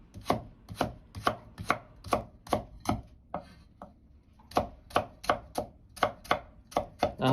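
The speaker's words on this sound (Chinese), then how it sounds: "把胡萝卜先斜刀切成大块" A kitchen knife slices a carrot diagonally into large chunks on a cutting board, with a run of crisp, evenly spaced chops close up, a brief pause midway, then the rhythmic chopping resumes.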